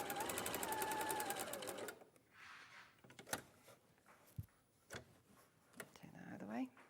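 A sewing machine stitches in a fast, steady mechanical rattle for about two seconds, followed by quieter clicks and handling knocks.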